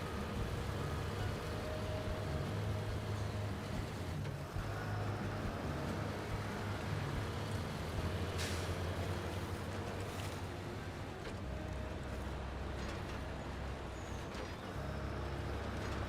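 Fuel-injected 363 truck engine in the SnowRunner video game, a steady low rumbling drone that runs continuously and fairly loud, with no talking over it.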